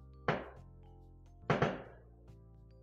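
Fireworks go off in the distance as two muffled booms about a second apart, each with a rumbling decay, then the start of a third.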